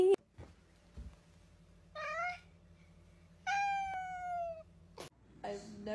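A cat meows three times, loud and close: a short call, then a longer drawn-out wail, then another short meow, with quiet room hum between.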